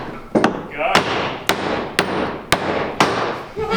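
A mallet strikes repeatedly in a boatbuilding workshop, six sharp, loud knocks at a steady pace of about one every half second, with a voice briefly heard near the start.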